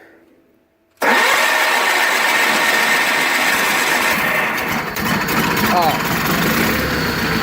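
A 1985 John Deere 318 tractor, unused for three months and primed with gas poured into the carburetor, cranks and catches after a moment of quiet, then runs loud and steady at a rough idle close by, with a brief voice at the start.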